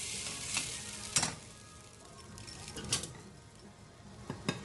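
Shrimp sizzle in a pan of scampi sauce with a steady hiss, broken by a few sharp scrapes and clinks from stirring. No one speaks over it.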